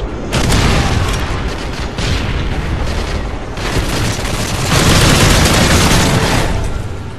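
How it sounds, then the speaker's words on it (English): Video game Predator missile strikes land as continuous loud rumbling explosions and heavy booms, a dense wall of blasts and debris that swells and eases over several seconds without pause. "Friendly Predator missile inbound."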